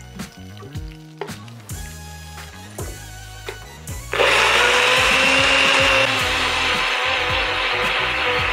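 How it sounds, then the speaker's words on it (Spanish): A blender grinds roasted, charred tomatoes. A few seconds of clattering and handling come first, then the motor starts with a loud, steady whir that continues to the end. "lo vamos a moler todo junto"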